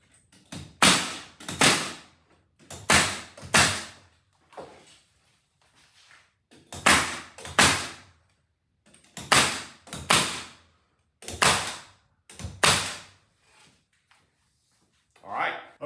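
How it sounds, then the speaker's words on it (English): 16-gauge finish nails are driven into trim on a cedar barn door, giving loud, close, sharp impacts that come in pairs and small clusters with short pauses between them. "Again, I'm using 16 gauge finish nails here."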